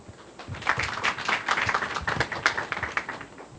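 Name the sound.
audience applause welcoming speaker to stage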